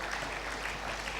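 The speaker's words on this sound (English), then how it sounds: "Another round of applause for Alhaji Suleiman Rao," Sustained applause from a conference audience at a banking institute's annual conference, a dense even wash of many hands clapping at moderate distance with no pauses.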